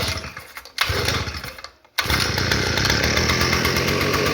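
The engine of an MC43 Earthquake cultivator revs loudly and close with a buzzing two-stroke drone, dips and nearly cuts out for a moment, then catches again and runs steadily.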